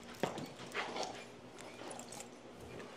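Percheron draft horses' hooves clop at a walking pace, a few irregular strikes on hard ground, moderately distant and faint, without talk.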